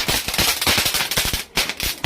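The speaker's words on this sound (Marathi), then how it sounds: "मी पण केली फटाके फोडायला सुरुवात" Firecrackers burst at a Tulsi wedding celebration, a loud, rapid string of sharp cracks and pops with a brief gap near the end.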